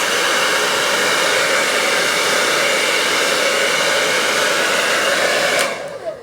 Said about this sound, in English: And just blow dry it backwards.